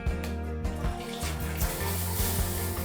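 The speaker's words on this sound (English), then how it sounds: "It's a nice walk-in shower with all these shower heads, and you can turn it on using this device here." Water pours steadily from several heads in a walk-in shower at a luxury Texas ranch house, a continuous broadband spray and splash with a faint underlying hum, close and constant with no talking.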